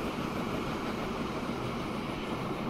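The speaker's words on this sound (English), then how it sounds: "Let's ride the train." A train rolls along the tracks in the Transport Fever 2 video game, a steady continuous rumble with no breaks, moderately loud and with no voices.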